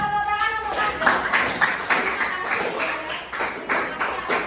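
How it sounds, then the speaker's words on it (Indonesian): A group applauds a speaker with rapid, dense hand claps. The clapping is steady and close, with a voice heard briefly at the start. "tepuk tangan untuk Anda"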